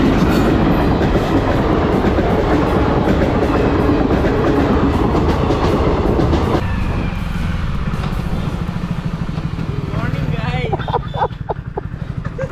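A train rumbles past a closed railway crossing gate with loud, continuous clattering of wheels on track, close and heavy, then thins as the cars pass; voices and a motorcycle engine can be heard nearby.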